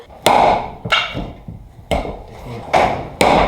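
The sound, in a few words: hammer striking wood-splitting tool into wood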